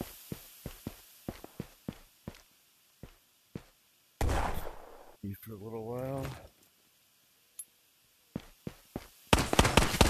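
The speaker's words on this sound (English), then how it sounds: "I got him with the grenade." A grenade goes off in the VR shooter Ghosts of Tabor, a sudden broad blast amid scattered clicks and footsteps-like taps. A voice speaks right after it, and another loud burst comes near the end.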